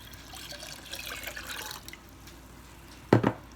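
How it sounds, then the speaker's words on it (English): Water trickles and splashes softly at close range as it is poured into a pan holding honey garlic sauce made with soy sauce and sugar, ending in a brief louder splash. "we are going to add 2½ cups of water."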